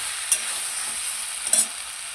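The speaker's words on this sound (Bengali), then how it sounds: "এই দেখো শিম আলুর তরকারি হচ্ছে।" A bean and potato curry stirred in a pan, giving a steady soft sizzle of frying with two brief scraping clinks of the spoon against the pan, close by and with no talking.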